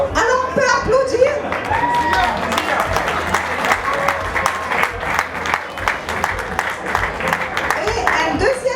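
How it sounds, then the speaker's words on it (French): Dense applause from a seated audience at a panel on freedom of expression in the Maghreb fills the room, loud and sustained with crisp individual claps, while a voice speaks over it. "Alors on peut applaudir."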